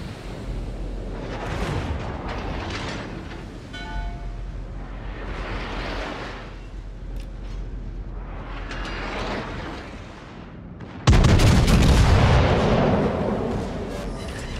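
Heavy guns of the battleship HMS Hood boom repeatedly in a game, several deep rolling blasts at steady intervals, ending in one louder, closer crash.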